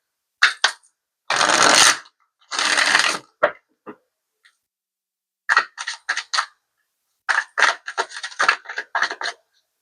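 Tarot cards are shuffled in several close bursts of crisp riffling and flicking, separated by short silences, with no voices.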